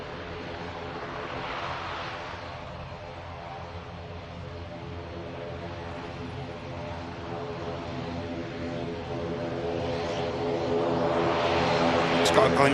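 An aircraft lands at Manchester Airport with a continuous humming engine drone, rich in steady tones, that grows gradually louder toward the end.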